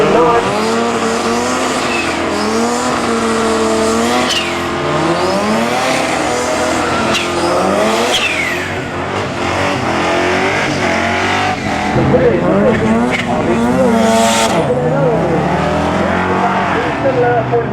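Drag race cars roar off the start line at a regional meet at Tarlton Raceway, one a Kawasaki, with loud continuous engine revving and rising pitch sweeps under an announcer's steady commentary.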